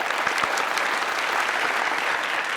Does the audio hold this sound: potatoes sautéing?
no